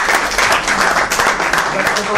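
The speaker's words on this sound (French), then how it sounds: "là je vous demande d'applaudir parce que c'est pour le grand écrivain, le grand professeur Tachaoui" Audience applause at a bookshop gathering honoring a writer, a short burst of fairly close clapping from a small crowd.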